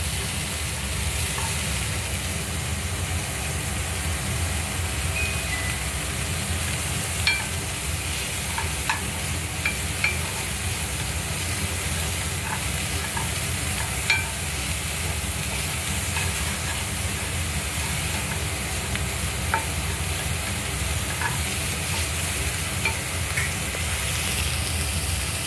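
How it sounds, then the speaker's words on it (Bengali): Chopped onions sizzle and crackle as they fry in a pan, with a spoon stirring them through a steady, close hiss and occasional light scrapes, no talking. "কুচনো পেঁয়াজগুলো দিয়ে দেবো। আরো খানিকক্ষণ নাড়বো।"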